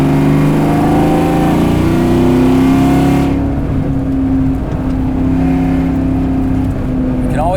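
A 2004 Mustang Cobra engine roars loudly and steadily at high revs, then drops to a lower, rumbling hold as the throttle eases, staying close and prominent throughout.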